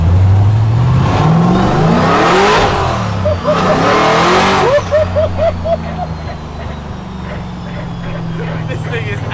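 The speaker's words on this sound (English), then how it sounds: "Bit of tyre scrub." A supercharged LS-swapped Ford Falcon XY drift car roars and revs loudly, then its tyres scrub with a choppy squealing rasp as it drifts, people talking nearby.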